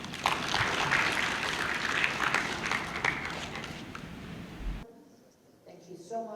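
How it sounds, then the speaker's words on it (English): Applause from the audience at a C-10 meeting in Lusaka, Zambia, a steady wash of clapping that fills the first few seconds and then drops away abruptly, leaving quieter room sound with a faint voice. "Round of applause."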